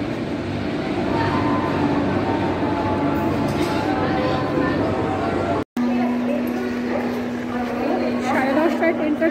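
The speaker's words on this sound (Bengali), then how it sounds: "হাওড়া দুরন্ত এক্সপ্রেস এসএমবিটি ঢুকছে।" Howrah Duronto Express pulling into a station, a continuous rumbling rush of wheels and carriages with a steady hum joining midway, close and loud from start to finish.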